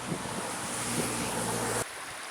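A normally tiny stream now swollen by floodwater rushes steadily outdoors, a broad continuous roar of flowing water mixed with wind noise on the microphone, fairly loud and without speech.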